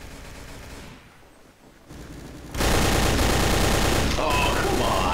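Bursts of gunfire in the World War II shooter game Day of Defeat: Source, a quieter stretch of scattered shots giving way to loud, dense rapid fire that fills the last half of the clip.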